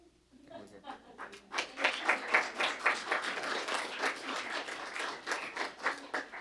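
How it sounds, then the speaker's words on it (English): An audience at a city council meeting applauds municipal clerks, a dense sustained round of clapping from many hands that swells quickly and holds steady throughout. "Please applaud very hard for them."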